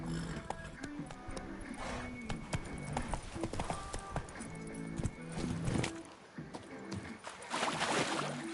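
A horse gallops in The Witcher 3, rapid rhythmic hoofbeats running throughout at moderate volume, with a rider's voice briefly heard.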